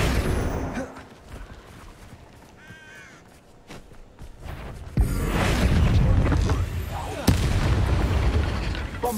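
Spell impacts boom and crack in Hogwarts Legacy combat against giant spiders, heavy blasts bursting in clusters over game sound effects, loudest in the second half.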